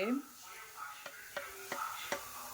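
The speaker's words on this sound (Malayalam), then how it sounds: "ഇതിലേക്ക് കുറച്ച് മുളക് പൊടി മൂപ്പിക്കണം" Chili powder sautéing in a pan for a dried-prawn curry, a low sizzle punctuated by four evenly spaced spoon clinks against the pan, with a brief murmur of voice at the very start.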